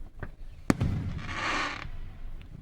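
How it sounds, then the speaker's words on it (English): Fireworks bursting outdoors: a sharp crack followed by a crackling, hissing shower that swells and fades, with a few fainter pops, heard from a moderate distance. "How do they even get fireworks to look like that? Like when it explodes?"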